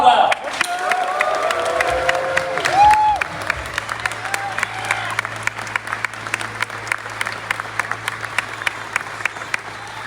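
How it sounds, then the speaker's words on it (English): A conference crowd at Laracon applauds Laravel creator Taylor Otwell, loud sustained clapping with cheers and whoops early on, then settling into steady rhythmic claps under a low hum. "Please, I want to hear the loudest round of applause for the creator of Laravel"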